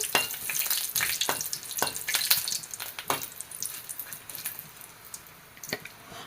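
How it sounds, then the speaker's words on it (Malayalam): Chillies sizzling in hot oil in a pan and stirred, a steady crackling fry with scraping spatula strokes and sharp clinks throughout, close up with no talking. "ഓയിൽ ഒഴിച്ച് കൊടുത്തു കപ്പൽ മുളക് എരിവിനനുസരിച്ചിട്ട് എടുത്താൽ മതി ഇതൊന്ന് ഇളക്കി കൊടുക്കാം"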